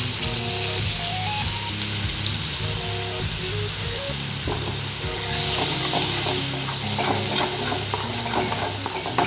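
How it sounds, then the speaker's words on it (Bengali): Butter melts into hot oil left from frying pointed gourd, with a steady sizzle and crackle under repeated stirring scrapes against the pan, close and moderately loud. "বাটারটাকে গলিয়ে নিতে হবে।"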